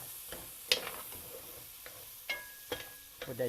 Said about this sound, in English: We're gonna add our vegetables. We'll let that go for a little while. Gonna saute that.